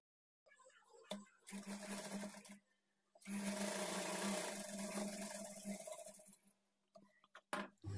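A sewing machine stitches the back darts of a blouse in two sustained whirring runs, the second much longer, separated by a short pause, with brief clicks and handling noises at the start and end.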